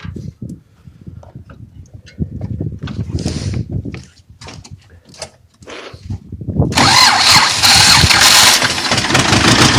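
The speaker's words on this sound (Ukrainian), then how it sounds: "Зараз ми заводимо." A T-25 tractor engine is cranked with a few uneven turning bursts, then catches and settles into a loud, steady running roar up close.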